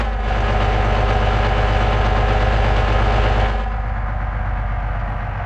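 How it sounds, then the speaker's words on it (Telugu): A TATA truck engine idles in the video game Bus Simulator Indonesia, a loud, steady, low rumble with a rhythmic throb that drops slightly in level near the end. "ట్రక్ సౌండ్ కూడా బాగానే పెట్టాడు కదా"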